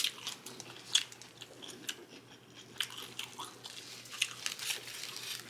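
Close-up chewing of a crunchy Five Guys burger and fries, irregular crisp bites and crunches with wet mouth sounds, loud and near, no talking.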